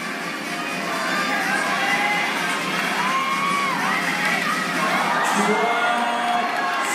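A crowd at the Seoul Lead Finals 2024 climbing competition reacts with rising cheers, whoops and gasps, loud and continuous throughout.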